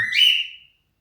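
A single short whistled phrase from a bird trained to whistle a melody, bright and clear, rising then fading out within a second, with nothing else around it.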